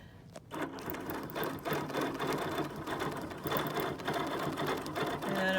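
A sewing machine runs steadily through free motion quilting, the hands guiding the fabric with Martelli gripper rings; a continuous close whirring stitch sound follows a brief quiet start and carries on with small shifts in speed.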